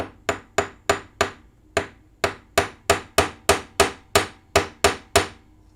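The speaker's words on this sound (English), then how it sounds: "You can take out your chasing hammer, or you can take out your riveting hammer, and we're just going to" A chasing or riveting hammer strikes metal in about fourteen sharp, ringing blows, the first few quick and then a steady even rhythm, close and loud with no talk.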